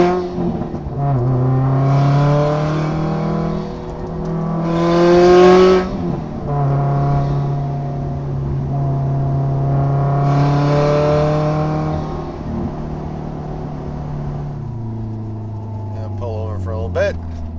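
Car fitted with an ETS Extreme catback exhaust, droning on the road and rising through two revving surges, then settling into a lower cruising hum, loud and close throughout.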